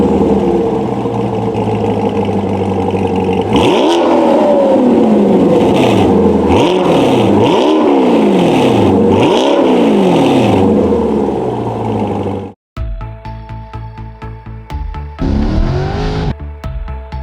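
A Chevrolet C8 Corvette 1LT with an upgraded exhaust revs loudly and close by, several sharp throttle blips rising and falling over a steady rumble, then a brief cut before a lighter idle with smaller blips.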